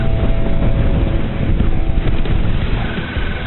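Sailboat reaching on a beam wind of about 13.5 to 14 knots, a loud continuous rush of wind and water noise that stays steady for the whole stretch, with no talk.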